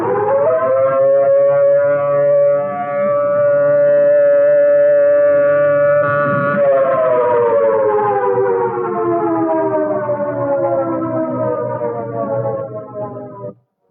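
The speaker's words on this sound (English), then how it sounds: "Alert: a blast of 3 to 5 minutes on the siren." A loud, sustained civil defense alert siren wails steadily, then slowly falls in pitch and cuts off abruptly at the end.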